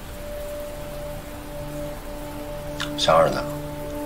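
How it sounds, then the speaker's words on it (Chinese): Heavy rain falling in a steady, even hiss throughout while a person speaks a short line near the end. "这雨越下越大了。"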